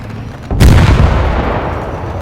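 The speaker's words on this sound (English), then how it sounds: "I did not expect the big explosion though" A big explosion in War Thunder tank combat gameplay, one sudden loud blast with a deep booming body that rumbles and slowly fades over about two seconds.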